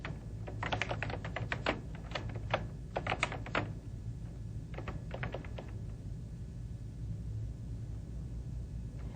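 Computer keyboard keys clatter in quick bursts of typing, close and distinct, then stop, leaving a low steady hum of room or machine noise for the remaining seconds.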